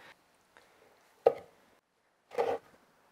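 Knife slicing through smoked beef ribs on a board, two distinct quiet cutting strokes with crisp bark crunch, separated by near silence.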